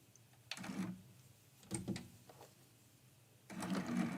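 Sewing machine stitching a quilt block for a quilt-as-you-go Christmas quilt, restarted after a thread break, running in three short bursts of whirring stitches with pauses between, close and moderately loud.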